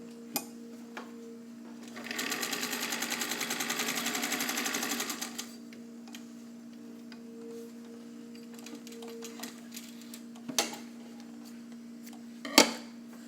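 A vintage all-metal Singer 201K sewing machine stitches through four layers of muslin in a steady, rapid mechanical whir lasting about three seconds, followed by quieter clicks and handling knocks.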